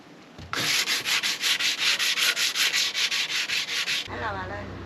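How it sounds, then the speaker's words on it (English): Close hand sanding on a narrowboat, a steady rhythm of about sixteen quick, scratchy back-and-forth rubbing strokes that begins abruptly and stops after four seconds, with no talk. "I'm just about ready now to do some rubbing down."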